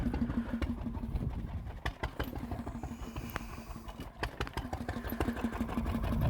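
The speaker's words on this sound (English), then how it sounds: "If I put a constant heavy load on, this is the tone of the engine will change." Working steam engine labouring under a heavy load, a close rhythmic chuffing beat with a steady low hum and sharp knocks, its tone shifting slightly across the few seconds, with no talk.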